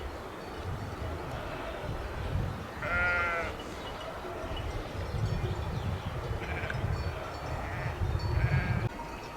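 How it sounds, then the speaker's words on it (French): Sheep bleat from a flock deep in a mountain valley near a refuge, several wavering calls at moderate distance rising over a steady wind-like rustle, one clear bleat early and fainter ones later. "C'est bourré de brebis, de moutons au fond."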